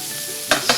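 Chilies and red peppers hit a hot pan of moqueca, Brazilian fish stew, with two short bursts of sizzling and stirring over a steady low frying hiss, close and alone.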